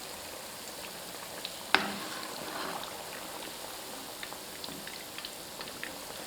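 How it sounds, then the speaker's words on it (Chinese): Flour-and-egg meatballs deep fry in oil over medium heat, giving a continuous fine crackling sizzle with one sharp clack near the start, as though from a utensil against the pot. "炸制的过程中一定要中火慢炸，防止表皮炸糊，内里不熟。"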